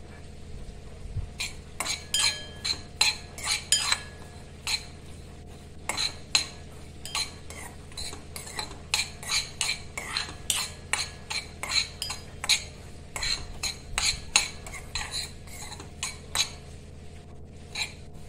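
Poppy seeds being dry-roasted in a hot pan with the heat shut off are stirred with a metal spoon, making close, irregular scraping and clinking scratches in quick bursts, with faint sizzle underneath.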